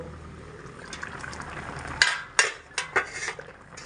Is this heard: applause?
no